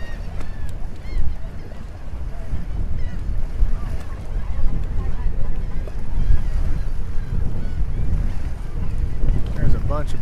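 Boats out on open water on a day of extreme wind, with heavy gusts buffeting the microphone and a constant low rumble of wind and waves; voices talk over it throughout.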